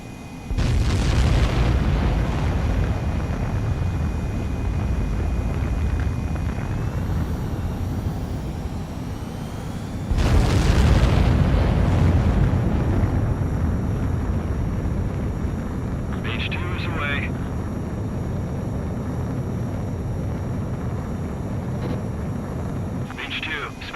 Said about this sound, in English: begin takeoff sequence